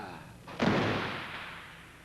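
A prop gun being test-fired, giving one sharp bang with a broad burst that decays over about a second and a half, with a faint lower rumble before it.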